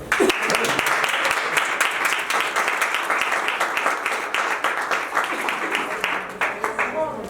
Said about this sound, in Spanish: Un aplauso antes.